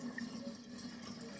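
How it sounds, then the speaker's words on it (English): Apple cider vinegar poured carefully into a one-gallon jar, a quiet, steady liquid trickle and fill lasting about a second and a half with no talking. "we're just going to carefully pour this back into the 1 gallon"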